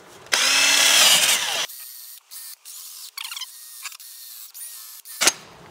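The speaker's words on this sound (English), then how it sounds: "You can also use the adapter on the drill, like I got here." Power drill with an adapter spinning off an anti-roll bar link on a VW Tiguan during front suspension work, one loud whirring burst, then several short bursts and clicks, and a final quick spin.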